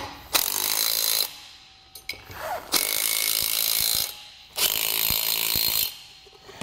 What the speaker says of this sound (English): Now in a star pattern, we'll go around and tighten down all of our lug nuts.